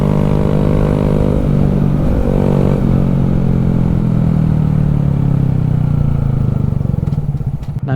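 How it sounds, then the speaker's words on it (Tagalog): A small, slow motorcycle engine revs hard and steadily as it climbs a steep uphill avenue, the loud close drone rising and falling in pitch throughout without any talk. "Wala lang sanang susunod sa atin kasi mabagal to motor natin."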